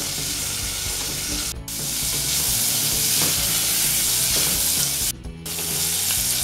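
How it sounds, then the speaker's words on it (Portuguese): Chopped bacon fries in a thin film of oil in a pan, giving a loud, steady sizzle that fills the whole stretch with two brief dips where it quiets, and no talking over it. "Faz 5 minutos que o bacon está aqui fritando."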